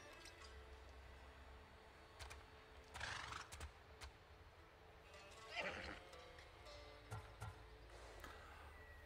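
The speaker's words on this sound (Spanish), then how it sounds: "Este caballo es para Adonis" A horse gives two loud whinnies amid scattered clip-clopping hooves in a quiet setting, with the second neigh the strongest and faint extra hoof steps near the end.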